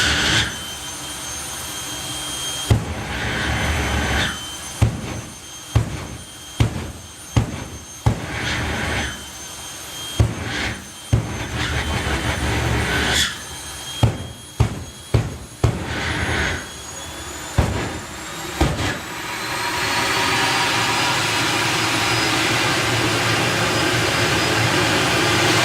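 Jet dragster flame and afterburner show at a drag racing event, loud roaring engine with a series of sharp repeated bursts and pops, followed by a sustained powerful roar building toward the end.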